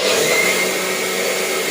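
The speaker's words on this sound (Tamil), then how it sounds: "மிக்சியில் போட்டு அடித்து குடிக்கலாம்" A kitchen mixer grinder whirs steadily as it blends grape pulp with milk and a little sugar into juice, a loud continuous motor drone with no talk.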